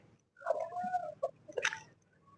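A broody hen sitting on her eggs gives low, drawn-out clucks and a few short, sharper calls, close and fairly quiet, with no talking.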